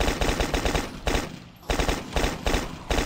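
Rapid automatic gunfire from the zombie survival video game The Last Stand: Union City comes in loud, dense bursts, with a brief pause in the middle before the firing resumes.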